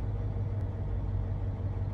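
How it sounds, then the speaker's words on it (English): The churning engines of a drill rig in the video game Volcanoids make a steady low mechanical drone, constant and moderately loud throughout, with no talking over it. "the drill rig, you know, makes enough noise in the background with the engines churning"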